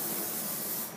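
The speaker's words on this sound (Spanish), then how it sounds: "aceite en aerosol." Cooking oil spray hisses onto a baking tray in a kitchen, one steady close spray lasting about a second.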